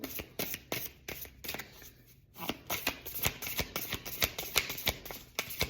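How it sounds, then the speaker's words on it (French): An oracle card deck is shuffled by hand in quick, crisp riffling bursts, close and fairly quiet, with a short pause partway through before the shuffling resumes. "Et on va tirer une carte pour tous ceux et celles qui regardent cette vidéo."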